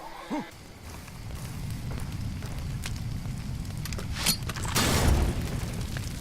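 Grenade explosions in the war shooter game Far Cry 2, heard as a dense rumbling boom texture with a brief thump early and a louder blast swell near the end, under steady game noise.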